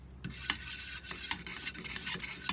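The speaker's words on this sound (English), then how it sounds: "So I like to stir them and get all the pigment mixed around." Pigment is stirred with a dedicated stirring stick while finishing a cigar box guitar, producing quiet, close scraping with a run of sharp clicks and taps from the stick against the container.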